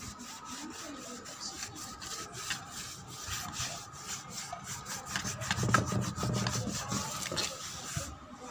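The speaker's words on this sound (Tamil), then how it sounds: "இன்னும் கொஞ்சம் ஈரத்துணி வச்சு இதை நான் தொடச்சிட்டேன்னா டேபிள் நீட்டாகிடும்" A wet cloth and a used lemon peel wipe across a table in repeated rhythmic rubbing strokes, close and fairly soft, growing slightly heavier toward the end.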